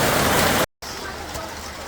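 Heavy tropical rain pours down with a dense, steady hiss in the town of Guyana's coast, loud and close, with a brief cut before continuing; a voice talks over it.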